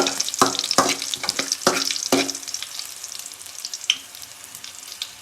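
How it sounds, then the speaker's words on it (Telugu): Cumin seeds with green and dried red chillies fry in oil for jeera rice, a steady close sizzle punctuated by several sharp clattering stirs in the first half, then a softer hiss with one more scrape. "వేయించుకోండి."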